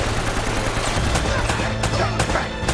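In Uncharted: Drake's Fortune, rapid gunfire crackles without letup, bursts of automatic shots close and loud over a dense game soundscape, with a few sharper cracks near the end.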